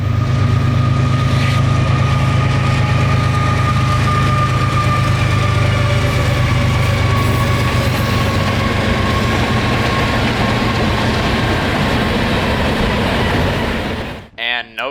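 Canadian Pacific SD70ACU locomotive 7023, painted to honor Air Force veterans, rumbles past in Florida with a steady, loud drone of diesel engines and rolling wheels, ending in an abrupt burst of noise.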